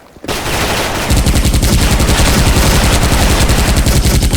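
An Uzi fires in Sudden Attack, an online shooting game, in a loud, rapid automatic burst after a short quiet start, with shots repeating evenly and without pause for about four seconds.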